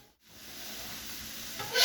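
Mushrooms stirred in melted butter on a Steelmade griddle, giving a soft, steady sizzle with a scraping stir and a brief dip near the start before the frying hiss swells slightly.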